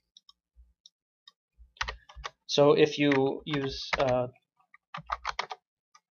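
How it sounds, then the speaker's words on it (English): Sparse clicks of typing on a computer keyboard, a few light taps spread out before and after someone speaks. "Let's say I start typing in something."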